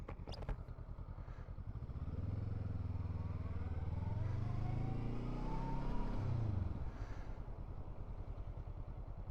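A nearly new Honda CL500 motorcycle with only a few miles on it is revved once. The engine note swells in a smooth rising tone for several seconds, then settles back to a steady, fairly quiet idle.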